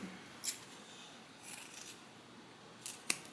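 Scissors snipping through the fabric seam allowance of a sewn bag, a few short, sharp, quiet cuts close up with pauses between, no talking.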